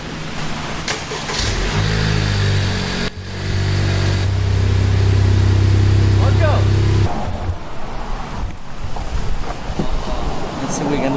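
Honda Civic Type R engine idling and moving forward, a steady mid-low hum with a louder stretch in the middle, with engine sound heard under talk.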